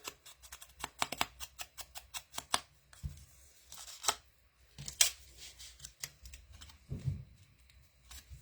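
Paper is ripped by hand during crafting with Tim Holtz supplies, heard as a run of quiet, crisp tearing and crackling bursts in irregular spurts, fairly close and alone.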